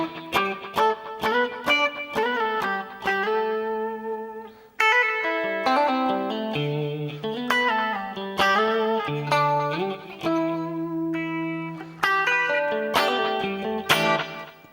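Intro melody of a song played in octaves on an electric guitar with a clean, chorus-tinged effected tone, with a series of picked notes, short stabs and sliding phrases across about fifteen seconds, no speech.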